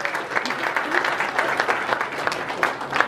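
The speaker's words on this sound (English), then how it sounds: "how about a round of applause for Australia's next generation of filmmakers?" A theatre audience gives a steady round of applause for young Australian filmmakers at a horror film festival awards night, the clapping full and continuous with faint voices underneath.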